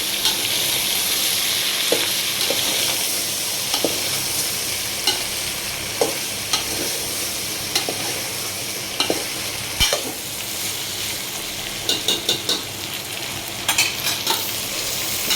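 Onions fry in a pan for sambhar and are stirred now and then. A steady sizzle runs throughout, marked by regular sharp scrapes and clinks of the spoon against the pan, close and clear.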